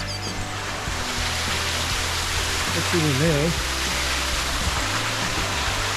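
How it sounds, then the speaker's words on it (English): Rushing water from a waterfall inside a flooded old gold mine shaft, a steady broadband roar filling the whole clip, with a voice briefly speaking over it. "Looks like it sounds like a waterfall."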